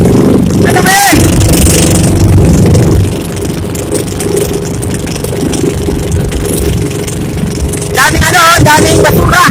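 A fishing boat's engine runs out at sea with a loud, steady rumble and rushing noise throughout, and brief voices call out near the start and end.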